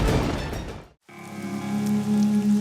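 Steady heavy rain pours down during a scene in a Hindi TV drama, cuts out for a moment, then returns as a softer continuous patter with a low drone underneath.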